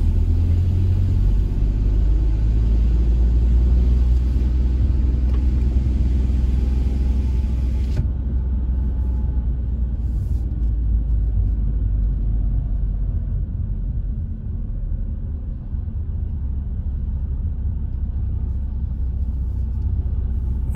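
A car labours up a steep mountain hairpin in first gear on a Mallorca pass road, its engine a steady low rumble that stays loud and continuous throughout, with the road noise easing slightly partway through.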